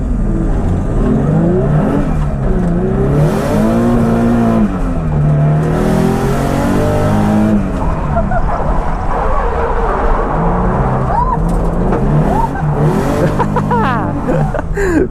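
A race car engine revs and roars continuously on a track at a Teesside practice day while the car runs hot, its pitch rising and falling through gear changes, loud and close, with a person talking over it.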